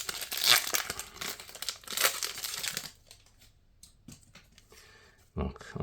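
Lorcana Jafar booster pack wrappers crinkle and tear in sharp bursts near the mic, loud rustling for a few seconds then quieter handling, with a person talking over it.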